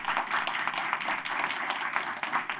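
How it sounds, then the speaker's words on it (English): Applause from a celebration audience honoring a state delegate's mother, a steady dense patter of many hands clapping at moderate distance, continuous for a few seconds without talk. "she deserves certainly a great round of applause"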